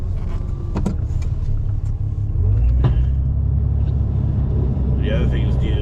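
A pickup truck fitted with a Fisher XV2 plow rumbles along in a winter storm, its engine a steady low drone with scraping and clunks, and a voice briefly speaks near the end.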